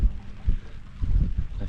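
Heavier wind gusts buffet a sailboat underway, a low, uneven rumbling roar that swells and eases in a close, steady wash with no talking.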